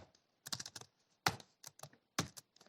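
Crisp keystrokes on a computer keyboard arrive in short clusters separated by brief pauses, close and fairly quiet, with no voices.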